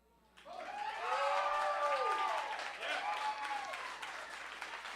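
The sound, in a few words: audience applause at a poetry slam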